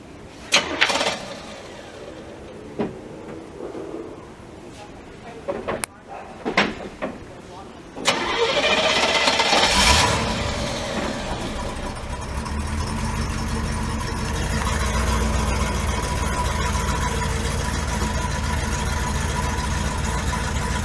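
A 1975 Oldsmobile Vista Cruiser with 270,000 miles starts up after a few clicks and bumps, then idles loudly and steadily with slight rises in revs, close by, with people talking intermittently.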